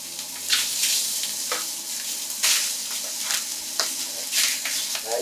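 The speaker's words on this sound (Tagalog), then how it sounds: "Lalagay ko muna ng kawali itong liempo natin." Pork belly slices (liempo) fry in a pan, a bright continuous sizzle punctuated by sharp spitting pops and crackles at close range, with no talk.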